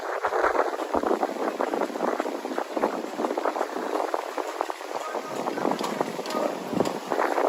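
Gusty wind blows outdoors on a chilly Saturday night in Miami, a steady broadband roar with sharp buffeting bursts against the microphone throughout.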